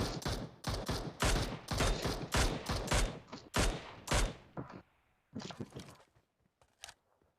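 PUBG Mobile gunfire rattles in rapid bursts, loud automatic volleys for several seconds, then sparser, fainter shots trailing off with gaps between them.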